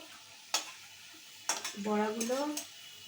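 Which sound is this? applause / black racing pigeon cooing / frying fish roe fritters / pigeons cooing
frying fish roe fritters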